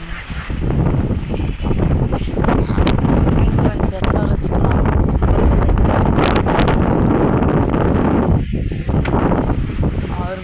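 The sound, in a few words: wind blowing in a village during windy season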